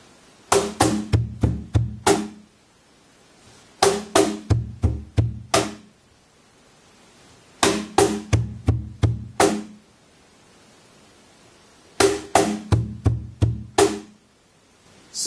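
A cajon triplet figure ending in a snare stroke is played slowly in four repeated bursts of about six knocking hits each, separated by short pauses, close and dry.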